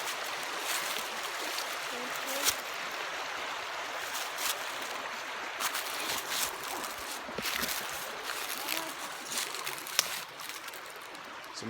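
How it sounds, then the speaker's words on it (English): Indian Creek in the Cherokee National Forest, Tennessee, runs over rocks in a steady, faint rushing wash, with small splashes and gurgles scattered through it. "Beautiful, beautiful creek."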